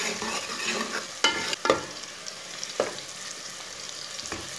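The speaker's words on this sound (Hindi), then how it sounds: "लहसुन और प्याज को मीडियम आंच पर ब्राउन कर लेना" Garlic and onion frying over medium heat for a mutton gosht masala curry, a steady sizzle with a few sharp spoon scrapes and clinks as the pan is stirred, close and fairly quiet, no voices.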